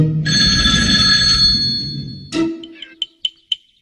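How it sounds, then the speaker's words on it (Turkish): Telephone bell ringing loudly and close for about two seconds, then cutting off, followed by a few short, fading metallic dings. "Biri şu telefona baksa ya artık."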